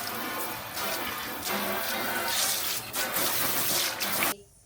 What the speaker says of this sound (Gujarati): વાસણ પણ ક્લીન થઈ ગયા અને ધોવાઈ ગયા